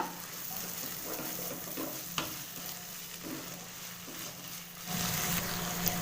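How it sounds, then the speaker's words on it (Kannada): Pumpkin pieces frying in a pan for pumpkin rice give a steady, close sizzle with occasional stirring scrapes, growing louder and fuller near the end. "ಕುಂಬಳಕಾಯಿ ಎಲ್ಲ ಚೆನ್ನಾಗಿ ಫ್ರೈ ಆಗಿದೆ"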